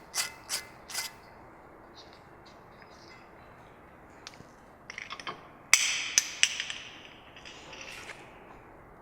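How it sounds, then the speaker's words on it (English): Sharp metallic clicks and ticks from a hand tool removing a T30 Torx set screw from a brake rotor, scattered irregularly, with a few louder ratcheting clacks midway. "to remove the brake rotor, we remove our set screw, which is a"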